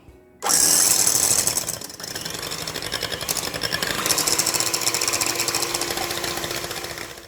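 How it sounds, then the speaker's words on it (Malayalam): A mixer whirs loudly into 500 ml of whipping cream in a bowl, starting abruptly and holding a steady buzzing drone with a slight change in tone partway through. "ഇനി നമുക്കിത് വിപ്പ് ചെയ്തെടുക്കാം"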